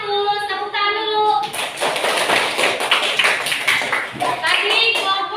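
Schoolchildren in a sixth-grade classroom clap for a group that has just scored points. The clapping is loud and busy and mixed with voices, and a sung or chanted tone shows at the start and the end.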